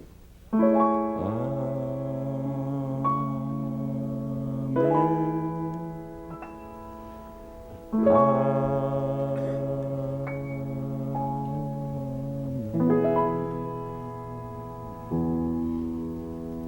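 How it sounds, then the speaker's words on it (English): Slow, sustained orchestral chords from a Debussy work move through two amen-like plagal cadences, each swelling then settling, with smooth harmonic changes and no voices. "you'll clearly hear two amens, plagal cadences as they are known"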